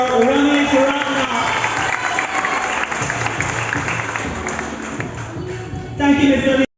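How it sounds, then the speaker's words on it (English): Applause for an award winner at the TMSS 2022 graduation ceremony, a steady crowd clapping in a hall with a voice talking over it, louder at the end before cutting off abruptly. "A round of applause for Ramesh Ragna."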